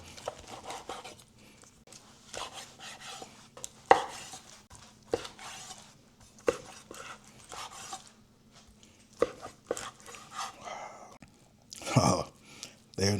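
A knife cuts through smoked pork ribs on a board, giving a series of close, uneven slicing and chopping thumps with quiet pauses and a louder burst near the end, while someone speaks softly at moments.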